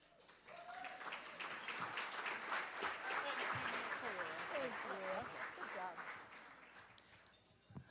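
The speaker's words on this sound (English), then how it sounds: "Thank you for my colleagues at the Cisco table for applauding." Colleagues at a table clap for the incoming president at a PR society event, a sustained, moderately loud round of applause with someone talking over it throughout, tapering off near the end.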